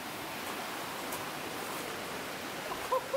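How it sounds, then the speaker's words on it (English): A spring-fed creek in Arkansas flows with a steady, even wash of water noise, close by and unbroken, with no voices over it. "This is the creek."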